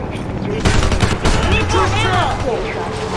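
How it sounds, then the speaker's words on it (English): Bursts of rapid gunfire in the war video game Homefront, with a transport helicopter in the scene: loud, dense volleys cracking over each other, and voices shouting beneath and between the shots. "Transport heli!"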